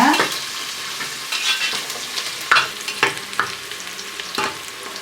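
Loud, continuous sizzling of onions and curry leaves frying in hot oil, broken by the repeated clinks and scrapes of stirring in the pan.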